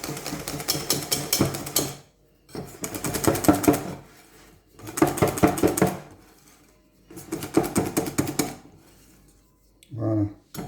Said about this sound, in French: On mélange bien une dernière fois.